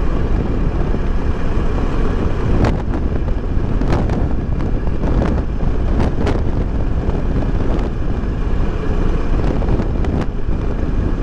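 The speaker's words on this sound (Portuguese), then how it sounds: "Aqui tem bastante vento lateral" Strong crosswind buffets the microphone during a ride on a 2018 Kawasaki Versys 650 ABS Tourer in Rio Grande do Norte, Brazil, a loud constant rushing roar broken by sharp gusty thumps.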